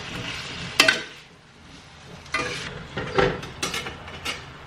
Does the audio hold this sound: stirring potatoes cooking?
yes